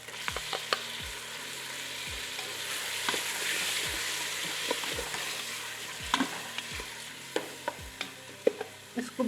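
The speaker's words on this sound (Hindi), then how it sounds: "तो गोश्त हमने थूम प्याज के साथ फ्राई कर लिया और अभी हम अपने टमाटर डाल देंगे" Mutton frying in a pan with garlic, onions and tomatoes, a steady sizzle broken by repeated sharp scrapes and clinks of a spoon against the pan, fairly close and with no talking.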